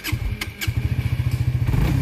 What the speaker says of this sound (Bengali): গাড়ি ইঞ্জিন স্টার্ট হয়ে গেছে